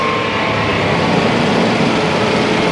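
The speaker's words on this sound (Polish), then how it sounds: "Uruchomię samochód, niech już sobie pochodzi." A BMW 760iL E66 engine, started after ten years parked in a garage, runs at a steady, loud idle with a continuous broadband hum and no talking.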